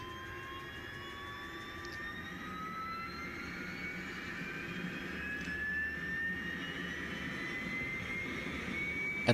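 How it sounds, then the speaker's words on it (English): An auxiliary power unit spools up on a Boeing 727 in a flight simulator, a rising turbine whine climbing steadily in pitch over a broad, constant roar, continuous and alone for the whole stretch. "And APU starting up."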